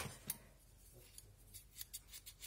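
Small pair of precision scissors snipping a piece of paper, a few quick faint crisp snips spread across a quiet room, close to the listener.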